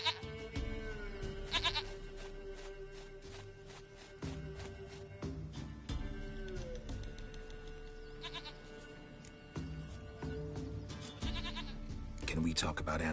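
Goat bleats in The Witcher 3 video game, several quivering calls recurring over a steady game soundscape with background music, fairly close and moderately loud.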